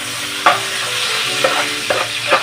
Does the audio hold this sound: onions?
yes